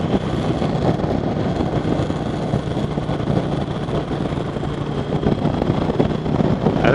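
Steady broadband wind rush buffeting a motorcycle windshield while riding a 2020 Indian Roadmaster Darkhorse, loud and constant throughout, with no voices.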